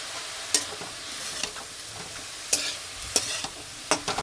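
Leafy greens fry in a home kitchen pan with a steady sizzle, broken by sharp, irregular scrapes and clacks of a spatula stirring them, up close and with no talk.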